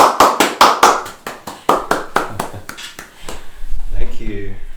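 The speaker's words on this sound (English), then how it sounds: "Let's give a big round of applause to Daniel." A few people clap for a guitarist during a livestreamed guitar concert, loud close individual claps in an uneven rhythm that thin out, followed by someone speaking.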